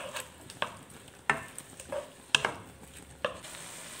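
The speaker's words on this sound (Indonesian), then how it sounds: "Kita aduk." Beef teriyaki with onions stirred in a pan: sharp spatula scrapes and clacks every half second or so over a faint, quiet sizzle.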